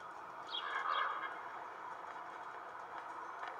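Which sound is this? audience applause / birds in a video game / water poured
birds in a video game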